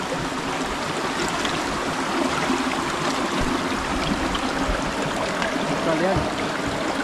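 Flood water after heavy rain streams steadily along a diverted path near fallen coconut trees, a continuous close rushing trickle with no pauses.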